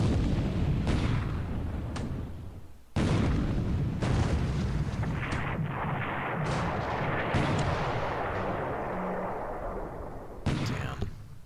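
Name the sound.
return gunfire in War in the Pacific video game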